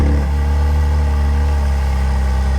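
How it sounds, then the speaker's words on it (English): A 2025 McLaren Artura engine starting up, a loud, close, low-pitched thrum that settles into a steady, rich idle with a deep pulsing drone held throughout. "Sounds like a McLaren."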